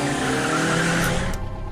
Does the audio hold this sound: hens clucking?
no